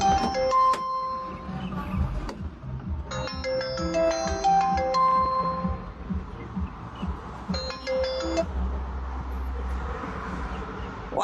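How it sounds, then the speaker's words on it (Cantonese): A phone ringtone plays in repeated melodic bursts with short pauses between them, over steady low background noise in a car repair workshop while the car's owner is being called. "打電話俾佢啊，問問睇電話。"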